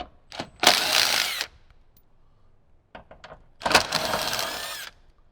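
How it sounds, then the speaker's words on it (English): A power tool backs out 10 millimeter bolts holding the soundbar in a Jeep JL, two separate bursts of loud whirring about a second each, with short taps and clicks between them. "So now it's time to remove the 6 total 10 millimeter bolts holding in our soundbar."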